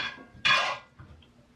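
A short, bright metallic scrape of a utensil across a cast iron pan on a stove, a single loud stroke lasting about a third of a second, followed by fainter clinks.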